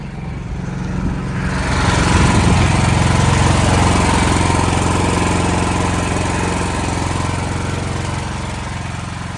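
A standby generator engine drones steadily and loudly throughout, a constant mechanical hum that swells slightly after the first couple of seconds as it warms up after being too cold.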